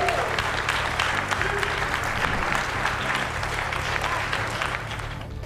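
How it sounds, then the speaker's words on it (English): Audience at a bodybuilding event in a Franklin, Tennessee gym applauds steadily and loudly for a guest, a dense wash of clapping with faint crowd noise that eases slightly at the end. "Everybody give a big round of applause for Rich Gaspari."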